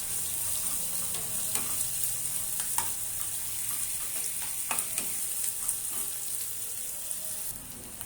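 Chopped onions and green chillies stir-fried in a pan for paneer, giving a constant soft hiss of frying with scattered light scrapes and taps of a spatula, moderately close and fairly quiet.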